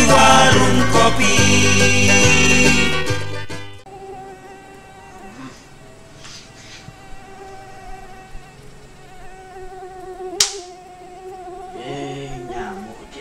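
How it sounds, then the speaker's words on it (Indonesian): A mosquito whines close to the ear in a thin, wavering buzz, faint and intermittent after a loud opening stretch of music, with one sharp swell as it passes nearby. "Nyamuk dia."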